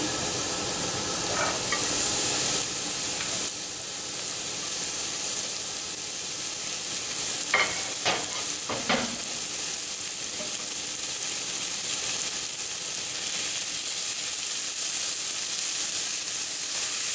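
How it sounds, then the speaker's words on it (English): Mushrooms fry in a hot pan with a steady sizzling hiss that holds throughout, broken by a few sharp clatters of stirring utensils partway through, no voices. "And we're going to throw in the mushroom."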